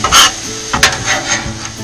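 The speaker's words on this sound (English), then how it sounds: "So time to slide the meat over, mix it up." Noodles and meat are stir-fried in a pan as a utensil scrapes and rasps against the metal, a few loud strokes over a faint sizzle, with no talking.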